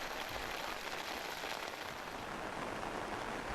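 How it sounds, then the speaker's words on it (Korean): Steady rain falls continuously at a uniform loudness, forming a dense broadband hiss of drops striking a surface with no voices, during a North Korean TV news report on heavy rainfall. "8시경부터 비가 내리기 시작해서 15시까지 72mm의 비가 내렸습니다"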